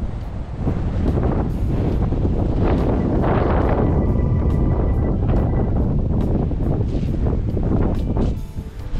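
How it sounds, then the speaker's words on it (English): Strong wind buffets a microphone outdoors on a countryside circular walk around Wheathampstead, Hertfordshire, a loud continuous roaring rumble that surges and eases without break. "how crazy the wind is going today"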